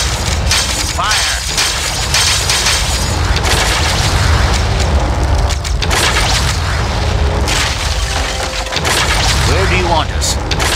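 Unit volleys in Armies of Exigo: dense, loud booming and cracking fire that keeps on with few breaks, heavy battle noise mixed with shouted voices.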